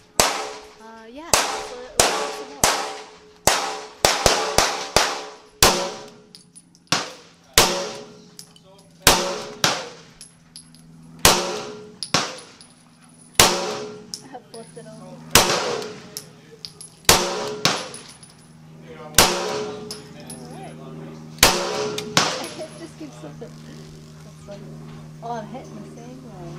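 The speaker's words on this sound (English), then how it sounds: "Feels pretty good to shoot the clay." Repeated pistol shots from a Walther PPQ Q5 Match, each followed by a ringing clang as rounds strike steel clays, fired at an irregular pace through roughly fifteen loud, sharp reports.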